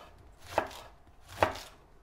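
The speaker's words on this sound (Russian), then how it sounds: "Таким же образом я крошу и фиолетовую капусту." A knife shreds purple cabbage on a board, giving two crisp, evenly spaced chops with quiet pauses between them.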